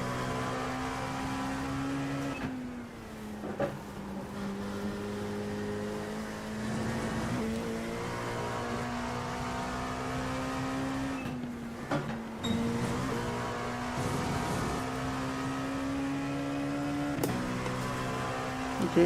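An LMP2 prototype race car engine at Le Mans in iRacing drones steadily and loudly throughout, with pitch rising and dipping through gear changes and brief lifts, no voices present.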